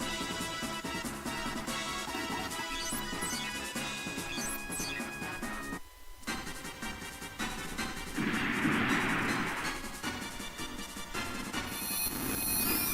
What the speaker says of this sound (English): I'm going to missile them all